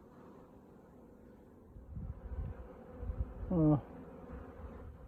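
A faint, steady hum of a honeybee swarm buzzes low around an open hive with supers, with a few soft thumps and a single short spoken word rising briefly over the drone.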